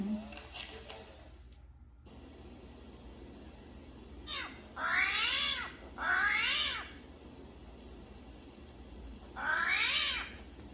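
An armadillo gives four drawn-out, wavering, meow-like cries spaced a second or two apart, moderately loud against low background noise, after a brief voice at the start.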